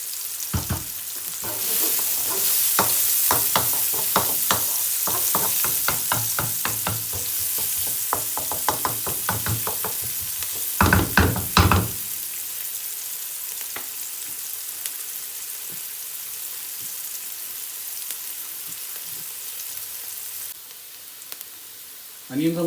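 Sliced white onions with garlic frying in oil on a high flame for egg fried rice, a steady loud sizzle with repeated clattering stirs of a spoon against the pan, fading quieter near the end.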